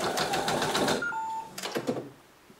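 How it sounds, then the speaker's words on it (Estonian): A PFAFF Creative 4.0 embroidery machine stitching: a rapid, steady mechanical chatter up close, stopping after about a second, then a short whir and a few clicks before quiet. "Nüüd ma võtan õrnat niidist kinni ja panen tikkimismasina käima."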